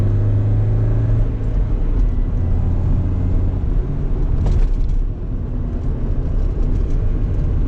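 A 1985 Porsche 924 with a 125 hp engine drives and accelerates, a steady low engine rumble with road noise heard from inside the car, the pitch easing briefly partway through.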